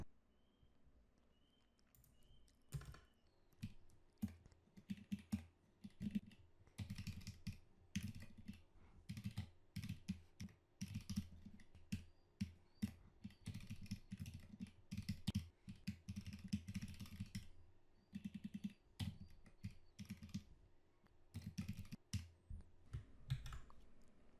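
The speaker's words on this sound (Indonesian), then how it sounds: "Saya akan ketik dulu." Steady typing on a computer keyboard, with rapid key clicks in irregular bursts and short pauses, fairly close and alone with no talking.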